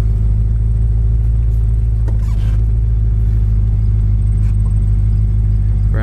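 A 1966 Ford Galaxie convertible engine runs at a loud, steady low rumble, heard close and alone with no talking over it.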